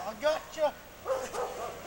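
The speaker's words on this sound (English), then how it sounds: "There's a really upset dog over there." An upset dog barks outdoors in the snow, letting out four separate yelping barks in two pairs, moderately distant and fairly quiet.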